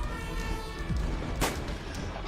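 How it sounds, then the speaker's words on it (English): Gunfire and explosions from the video game Sunrider: Mask of Arcadius, a dense, continuous battle din with one sharp louder burst in the middle and no talk. "Alliance soldiers stormed Cassette's encampment, guns blazing."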